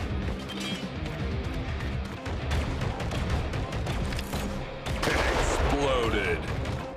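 Explosions and rapid gunfire crackle through combat in Evolution 2: Battle for Utopia, with dense repeated bursts and a louder blast cluster around the fifth second.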